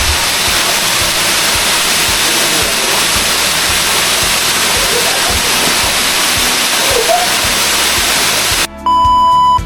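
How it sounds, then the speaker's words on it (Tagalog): Bigaho Waterfalls in Palawan roars with a loud, continuous broadband rush of falling water that fills the whole clip, broken near the end by a short burst of electronic beeping. "nakarating na rin ako dito sa Bigaho Waterfalls"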